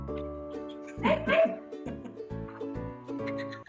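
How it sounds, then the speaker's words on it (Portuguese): A dog gives a couple of close yipping barks and whimpers over a soft, sustained musical background, fairly quiet overall. "Um cachorro? Olha o amigão que ela me trouxe."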